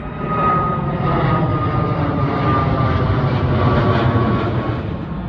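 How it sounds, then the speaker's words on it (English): Low-flying fixed-wing airplane passing over a field near Edinburgh Airport, a loud continuous engine roar with a steady whine that fills the scene without any voices. "the planes are actually that low to the ground and they're flying over the site"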